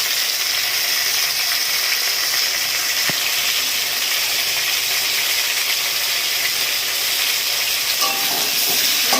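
Turmeric sautéing in hot oil for a taro and tangra fish curry, a loud, steady close sizzle that runs throughout, with faint utensil scrapes and a brief clatter near the end.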